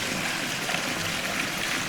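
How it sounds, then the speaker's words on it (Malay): Small decorative waterfall at a guest entrance in Kuala Dungun, Terengganu, giving a soft, steady trickling and splashing wash of water throughout, fairly faint and without talk. "dia sambut tetamu dengan air waterfall, mini waterfall lah cakap."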